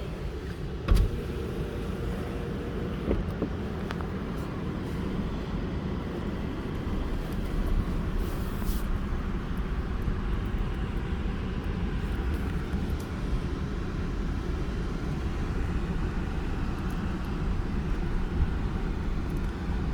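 A 2022 Toyota RAV4 Hybrid in sport mode with manual shifting, pulling away in first gear on beach sand dunes, giving a steady low engine and road rumble with broadband noise throughout, no talking.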